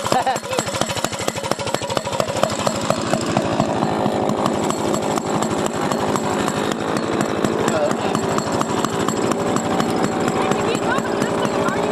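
A small go-kart engine runs continuously at close range, a loud rough buzzing drone with rapid regular firing pulses, steady throughout with slight revving variation.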